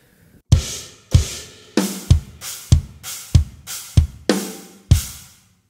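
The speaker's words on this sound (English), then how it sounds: "playing the beat on, or the groove on, a China cymbal. In my case, it's just a stack." A drum groove played on a stacked cymbal: about nine loud, trashy crashes, each with a deep drum thump, land in a steady rhythm and decay quickly, with no voices.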